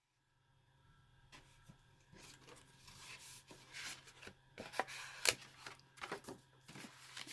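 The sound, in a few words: cutting a flap off a paper card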